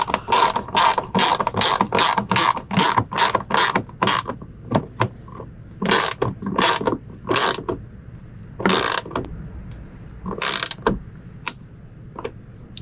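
A hand ratchet tightens mudflap bolts on a 2022 Ram 3500 dually pickup, with fast, loud bursts of metallic clicking followed by slower, spaced strokes and short pauses.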